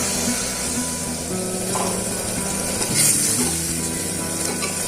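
Onions frying in a pan until golden brown for egg curry, a steady close sizzle with faint scraping stirs running continuously and no voices.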